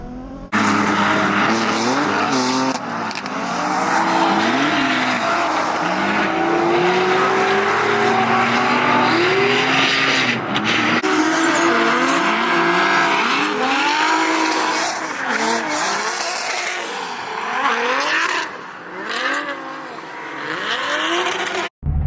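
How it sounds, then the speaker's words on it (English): A Nissan S14 drift car with a twin-charged RB engine and a giant wing drifts at Willow Springs Raceway, its engine wailing and tires squealing in long, loud sweeps, with several cars in tandem passing close. "This S14 here with the giant wing is a twin-charged RB, meaning it has a supercharger and a turbo."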